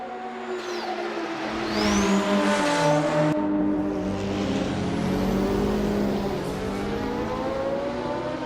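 Nissan R30 Skyline Super Silhouette race car on track under light throttle, its engine droning and rising in pitch, loud and close, with whining gear and turbo tones sweeping over the steady roar.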